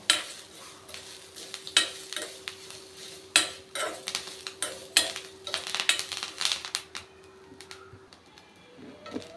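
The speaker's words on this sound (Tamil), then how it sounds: "இது எல்லாமே சேர்த்து வறுத்துக்கலாம்" Ingredients for sundal podi are dry roasted together in a pan, giving a steady run of scraping stirs with sharp utensil clinks and light rattles, close and fairly quiet, with no talking.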